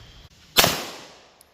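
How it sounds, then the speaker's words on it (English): A single pistol shot of Keystone Munitions 115 grain reload practice ammunition cracks out loud and close, then trails off in a long fading echo over about a second, with a faint click afterwards. "I just took 3 shots with the Keystone Munition"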